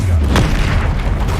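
A Confringo spell explosion in Hogwarts Legacy combat: a single sharp boom near the start, followed by a rumbling tail amid ongoing battle noise, with a voice briefly underneath.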